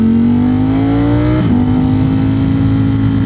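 A Ducati Streetfighter V4 motorcycle engine pulls at low revs while riding, a loud steady droning growl that dips briefly midway as revs change, then settles back into an even drone, with no talking.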